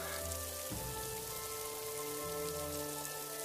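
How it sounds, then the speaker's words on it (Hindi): Heavy rain falling, a dense continuous hiss at steady loudness with no voices. "तेज बारिश होने लगती है।"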